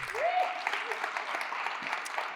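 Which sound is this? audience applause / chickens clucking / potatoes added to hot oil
audience applause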